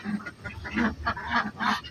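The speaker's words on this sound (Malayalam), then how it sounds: "എൻ്റെ താറാവൻ പാർട്ടി" A small flock of ducks quacks in quick, honking bursts, about five calls in a row, fairly close.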